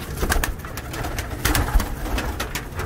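Pigeons coo softly and repeatedly close by, low murmuring calls overlapping in a continuous flutter of sound, with light rustling in the background.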